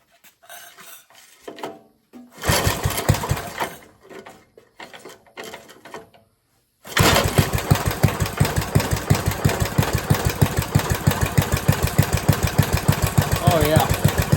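A 1975 Briggs & Stratton small engine sputters briefly, cuts out, then starts and settles into a loud, steady idle with a rapid even chug.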